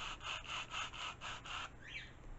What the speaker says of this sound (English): So you can just gently run a sanding block over